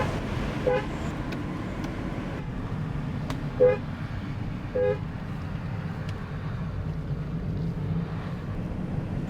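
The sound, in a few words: lorry passing and honking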